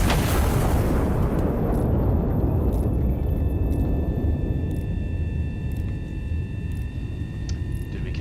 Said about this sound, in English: Arming right gun ready to fire.